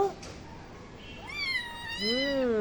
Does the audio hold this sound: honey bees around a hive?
no